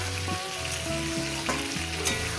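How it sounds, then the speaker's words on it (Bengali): Cauliflower and potato pieces fry in a pan, a loud, constant sizzle layered with repeated stirring scrapes, close up and with no talking. "মিনিমাম সাত মিনিট করে আমি এটাকে ভাজবো"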